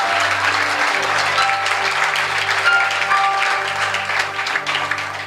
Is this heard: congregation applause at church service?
yes